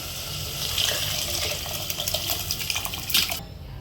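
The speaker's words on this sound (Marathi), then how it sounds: "आता आपण यामध्ये शेंग आणि डाळ ओतून घेऊया" Drumsticks and cooked dal are poured into a pan of cooked tomato and spices, making a close, wet splashing pour that lasts a few seconds.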